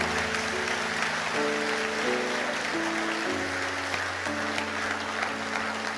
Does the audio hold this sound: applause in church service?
yes